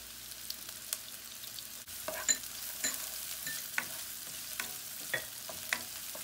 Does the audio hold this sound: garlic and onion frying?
yes